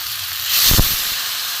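Water poured into a hot pan holding hilsa fish head and greens bursts into a loud hiss of steam that rises quickly, peaks, then settles into a steady sizzle with no talking.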